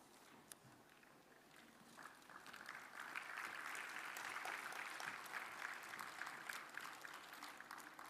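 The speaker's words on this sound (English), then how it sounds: "a round of applause on the release of ISHTA Technologies Compendium by the Honorable Minister" Applause from an audience at a health technology assessment symposium as a compendium is released: faint clapping at first that swells into sustained, dense applause from a large crowd, heard from some distance.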